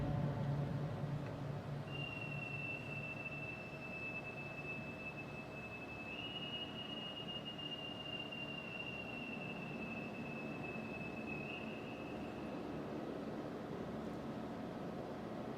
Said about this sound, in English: Bosun, stand by to pipe Navy family ashore.